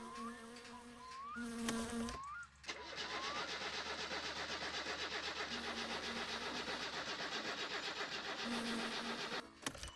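A car engine in a video game cranks repeatedly but fails to start, giving a rapid buzzing starter whir in several bursts that is fairly loud and close, alone without talk.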